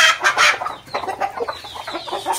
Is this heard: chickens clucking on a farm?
yes